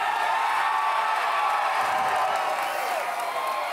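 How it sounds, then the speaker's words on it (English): A crowd at a live show applauds and cheers steadily in a dense, loud wash of clapping, whoops and crowd noise that does not let up. "Round of applause if you think Michael won that fight"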